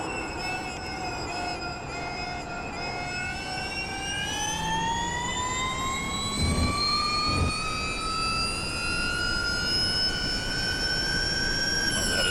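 Rising electric motor whine from the Porsche Mission R all-electric race car in iRacing, layered tonal whistling that sweeps steadily upward in pitch over a sustained rushing drone, with a couple of brief thumps partway through.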